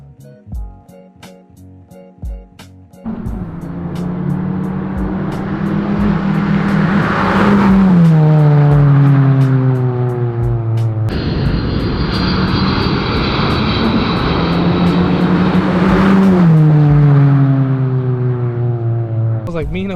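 An E85-tuned 10th-generation Honda Civic Si approaches from a distance and roars past at full throttle, its engine note rising and falling through gear changes as it flies by, loud and close.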